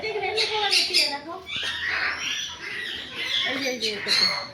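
Parakeets squawk repeatedly in a park, harsh bursts overlapping throughout, with people talking nearby over the birds.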